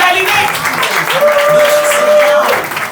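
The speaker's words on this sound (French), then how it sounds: "On commence à l'applaudir, on accueille Cyril Lalinec!" A stand-up comedy crowd applauds and cheers as a comedian is welcomed on stage, a brief, loud wash of clapping with whoops and voices mixed in.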